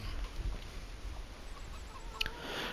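Chickens cluck faintly inside a coop in the video game Farming Simulator 25, a few soft, low clucks over a steady ambient hum, with one brief brighter chirp near the end.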